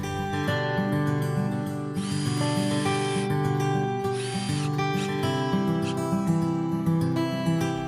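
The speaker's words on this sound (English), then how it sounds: "you can go ahead and screw them onto the brickwork" A power drill drives screws through pre-drilled battens into brickwork, steady motor whine with two higher-pitched surges of effort, close and loud throughout.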